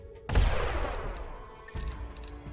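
Weapon fire in the space game X3: Albion Prelude, with turrets firing on fighters: a loud sudden burst of rapid gunfire and explosions that rumbles on, followed by a second, quieter volley near the end.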